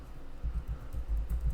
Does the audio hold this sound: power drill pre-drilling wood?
no